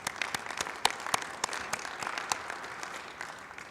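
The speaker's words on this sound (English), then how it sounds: "So I just want to give them a really big round of applause." Sparse, faint clapping from a small group at a city pedestrian-safety announcement, individual claps standing out over soft room noise.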